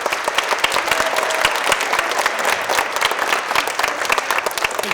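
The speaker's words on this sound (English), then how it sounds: "Round of applause." An audience at an elementary school spring concert claps steadily and densely for the pianist, a full sustained round of applause that stays loud and even throughout, with no talking over it.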